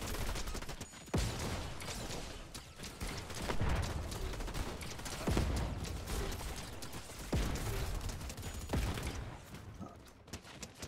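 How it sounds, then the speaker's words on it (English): Rapid bursts of gunfire and explosions crackle through a Fortnite match, with dense clusters of sharp shots and blasts close by, layered over one another with little pause. "There's grenade explosions going off everywhere."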